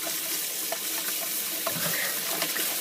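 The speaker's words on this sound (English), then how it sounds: "So I'll just continue doughing in" Malt being stirred into mash water while doughing in during a home brew, with a steady wet swishing wash and small splashes and knocks. There are no voices.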